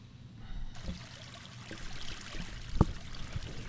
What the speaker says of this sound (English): Let's put some water in the background here.